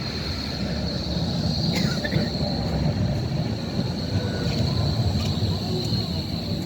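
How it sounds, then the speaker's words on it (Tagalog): Interior of a moving tram, a steady rumbling roll of wheels on rails with a constant high whine and a few faint squeaks, with quiet voices in the background. "At sasakay na tayo guys. Sa loob ng tram."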